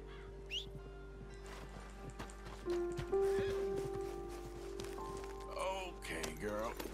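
A horse in the video game Red Dead Redemption 2 gives a drawn-out neigh and whinny with hoof clip-clops, over a steady game music drone and light rain-like ambience.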